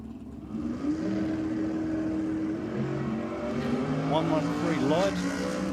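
Drag racing car at Sydney Dragway during a state championship evening session, its engine roaring and revving through a burnout, loud and sustained with pitch sweeps near the end while a commentator talks over it.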